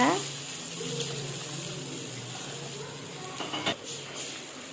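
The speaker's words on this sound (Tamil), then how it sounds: "இன்னும் மசாலாவை கறியை விட்டுறாமல் உடனே புளி தண்ணியை ஊற்றிடுங்க." Tamarind water goes into sizzling fish curry masala in a pot, a steady close hiss of frying and liquid with a brief splashy burst near the end, with speech faintly present.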